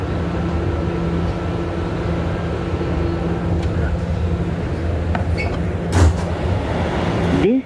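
A Bronx-bound R211A subway train runs on the B line, a steady close rumble of wheels and motors holding throughout with a brief louder clunk near the end.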